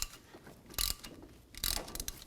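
Bolts are tightened with a ratchet to pull a brake rotor off the hub of a Toyota Rav4, giving two close bursts of rapid clicking with quieter metallic fiddling between them.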